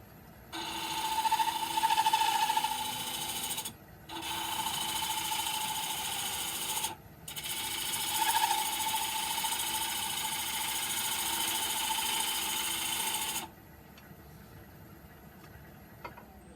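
A wood lathe spins a cocobolo piece in reverse while a 3/8 gouge cuts it, giving a steady mid-pitched hum with a scraping hiss in three long stretches broken by short gaps, then dropping to a quiet idle.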